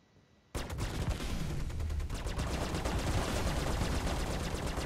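Sustained rapid gunfire from a Star Citizen game fight, version 2.4, bursting in abruptly after a brief quiet start and then hammering on loud and dense without pause.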